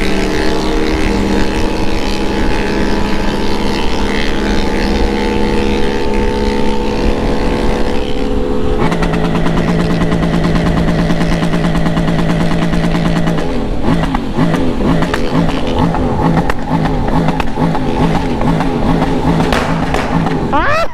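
Loud motorcycle engines in a large convoy rev and accelerate continuously, pitches climbing and shifting as several motors roar close by, with a few voices faintly underneath.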